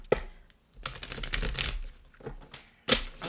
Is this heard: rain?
no